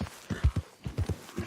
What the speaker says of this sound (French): je récupère mon cheval